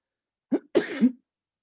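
A person coughs during a yoga class, a short single cough followed by a longer, throaty cough, close and clear against silence.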